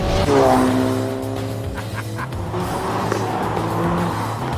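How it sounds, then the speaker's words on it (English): Ford Focus RS, the latest version, with a 350 brake horsepower 4-cylinder turbocharged engine, driving: a loud engine note rising in pitch as it accelerates, with tyre and road roar and a steady low drone throughout, no talk. "This is a Ford Focus RS, the latest version. 350 brake horsepower from a 4-cylinder turbocharged engine."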